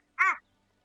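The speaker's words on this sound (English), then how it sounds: "It sounds half like a crow, half like a monkey, and half like just an asshole laughing" A creature in a Tomb of Annihilation tabletop game gives one short, harsh, crow-like caw with a cackling, laugh-like edge, loud and close, alone against near silence.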